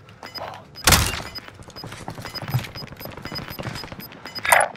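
Gunfire in Call of Duty: Modern Warfare, with a loud nearby burst early on, then scattered thuds and shots under steady game noise, and another sharp burst near the end.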